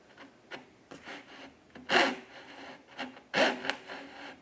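A hand saw cuts through wood in a series of uneven rasping strokes, two of them notably louder and longer, close by with no talking.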